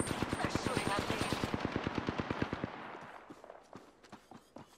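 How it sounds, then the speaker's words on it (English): Automatic gunfire in Apex Legends rattles out as a rapid, evenly spaced burst of loud shots that fades after about three seconds, followed by scattered fainter shots and clicks. "They're shooting at me."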